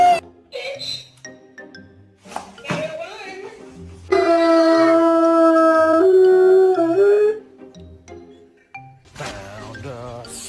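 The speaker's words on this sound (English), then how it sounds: "don't you bark at me" A dog howls in a long, loud, sustained wail for about three seconds, with shorter yelps and whimpers before and after, and a person speaks briefly around it.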